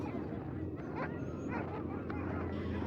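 Sled dogs from an Arctic patrol dog team whimper and yip in short bursts over a steady low rumble, with voices talking underneath throughout.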